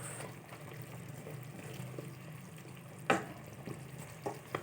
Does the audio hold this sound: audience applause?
no